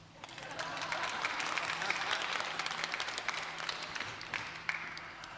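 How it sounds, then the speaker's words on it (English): Audience applause fills a hall at the Global Resilience Day launch at World Expo in Dubai, sustained many-handed clapping at moderate distance that swells and then slowly thins. "Applause."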